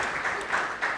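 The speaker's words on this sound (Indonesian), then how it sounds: "Berikan tepuk tangan mulian buat Tuhan kita" A brief burst of steady clapping from a church congregation, the whole crowd applauding together.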